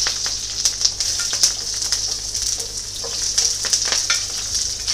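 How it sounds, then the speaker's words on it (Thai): Chopped onions hiss and sizzle loudly in smoking-hot oil in a wok, a dense, continuous fry close up, with scattered crackles and no talking. "เพื่อนๆเอาแบบควันขึ้นแบบนี้เลยนะคะจ้าแล้วก็ใส่หอมใหญ่ลงไปเลยนะคะ"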